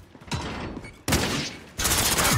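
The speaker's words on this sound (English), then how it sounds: "See how he's shooting his shots" Automatic rifle fire crackles in rapid bursts in Call of Duty: Modern Warfare, with two or three dense volleys starting abruptly and growing louder, with no voices over them.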